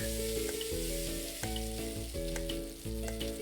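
Onion and pork fry in a pan with a steady sizzle as they are stirred around. The hiss is close and continuous, with light clinks of the utensil scattered through it and soft music beneath.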